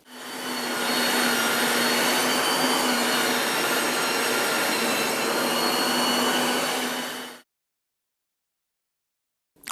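An electric meat mincer runs steadily for about seven seconds, grinding chunks of chop meat for a country pâté, with a loud even motor drone and a strong low hum, then cuts off abruptly into silence.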